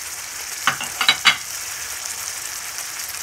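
Ginger, onion and tomato paste fry in a pan for Bengali rui fish kalia: a constant hissing sizzle, with three quick scraping stir strokes near the start, then even frying.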